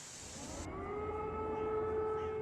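A wailing air raid siren in wartime Ukraine rises and holds a steady tone with harmonics, sounding from a distance over low background rumble.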